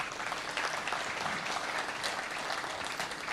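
Continuous audience applause for main speaker James Boateng at a national dialogue gathering, an even, crowded clapping texture with no pauses.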